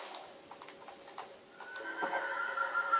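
Horse neighing in the Minecraft PS3 Edition video game: a drawn-out whinny rises clearly from about midway, close and moderately loud over soft game ambience, with no voices.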